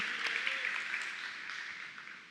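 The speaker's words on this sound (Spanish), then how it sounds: "damos un aplauso fuerte al Señor" A church congregation gives the Lord a loud round of applause. The clapping is a continuous, even wash heard from some distance, and it slowly tapers off.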